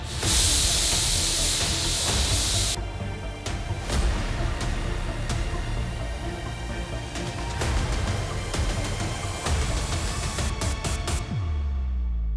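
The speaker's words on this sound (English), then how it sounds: "we'll go ahead and spray some epoxy primer in the engine bay" A loud, steady hiss of a spray gun applying epoxy primer in a 1993 Toyota Supra engine bay runs almost without pause, with sharp clicks and knocks scattered through it and a brief stop near the end.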